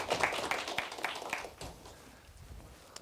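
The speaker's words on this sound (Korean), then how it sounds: "박수로 환영" Audience applause welcoming a lecturer to a university mathematics guest lecture in Seoul, a dense burst of clapping that starts strong and thins out over about three seconds.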